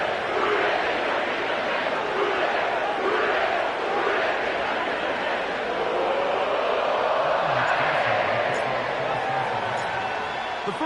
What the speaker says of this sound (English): sellout crowd has arrived at Paycor Stadium in Cincinnati